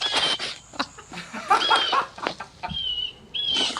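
Chickens cluck and squawk outdoors, a series of sharp irregular calls with some wing flapping, close and loud, with no talking.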